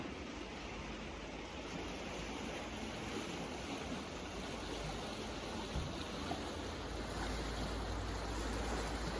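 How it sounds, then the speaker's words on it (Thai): Steady, continuous rush of the Reuss River flowing beneath a wooden bridge in Switzerland, even and unbroken throughout, with no voices. "ได้ยินเสียงน้ำไหลบ่ค่ะ"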